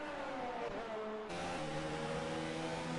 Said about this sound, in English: It sounds like he's over revving that.